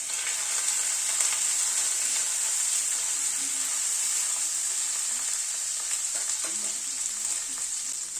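Ginger and green chili frying in a pan for a Bengali fennel-and-aubergine vegetarian dish, giving a steady, bright sizzle throughout with a few faint clinks of utensils near the end.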